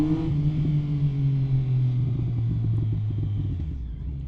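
A Triumph Speed Triple 1050 motorcycle engine rumbles loudly and steadily nearby, its pitch shifting slightly as it holds a throaty, continuous note without any voices.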